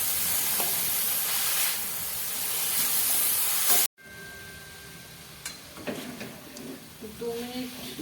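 Carrots fry with turmeric in a pan as they are stirred. A strong, steady sizzle lasts a few seconds, then drops to a quieter hiss with light scraping and clinks.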